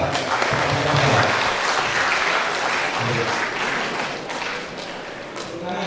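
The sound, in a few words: audience applause for a professor at a seminar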